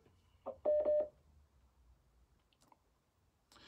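Telephone call connecting: a short series of four dial-tone beeps in quick succession, then near quiet with faint clicks, and a brief noisy burst as the line opens at the end.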